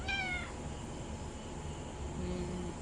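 A stray cat gives a single short meow at the very start, then a steady hiss of background noise.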